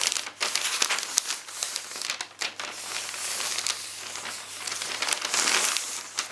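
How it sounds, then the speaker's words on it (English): Wrapping paper around a Christmas present crinkles and rustles close up as the edges are folded over, a run of irregular crisp crackles with brief pauses between folds and no voices. "We're going to fold over the edges a little."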